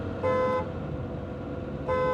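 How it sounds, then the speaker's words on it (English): Horn of a Lamborghini Temerario sounding two short honks, a brief blast near the start and another near the end, over steady engine and road noise from inside the car. "that's pretty much just a generic horn sound"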